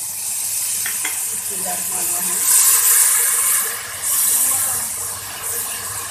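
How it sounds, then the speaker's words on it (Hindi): Ginger garlic paste frying in a pan sizzles and hisses steadily as a splash of water is added, with bursts of steam around the middle and end of the clip, loud and close. "ऐसा पानी का छींटा लगाऊंगी।"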